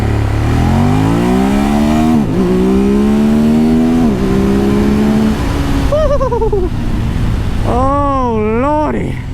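A 2020 Ducati Monster 1200S motorcycle accelerates hard from 0 to 60 with traction and wheelie control off, its loud engine note climbing through several quick-shifted gears, rising and dropping in pitch before fading as the rider speaks.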